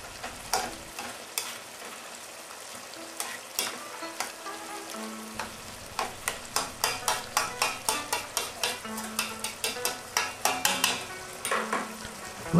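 Shepherd's pie filling stirred with salt and pepper in a frying pan, a steady sizzle under quick repeated scraping strokes of a utensil against the pan that grow into a regular rhythm, fairly close and with no voices.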